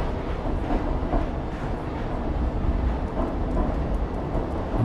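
Steady low rumble of a moving train in the video game Stray, with a faint rhythmic clatter, continuous and even throughout, no voices.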